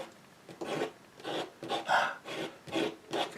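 A tool scrapes dry watercolour paint off paper in about seven rough rasping strokes at a steady rhythm, close and fairly soft, with no speech.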